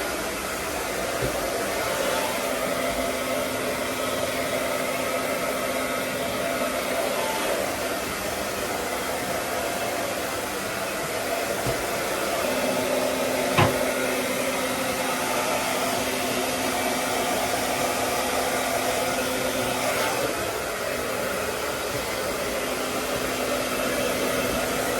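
A hair dryer blows a steady, loud, continuous rushing whoosh while drying hair, first fitted with a diffuser, running without a break and with only slight shifts in tone as it moves around the head.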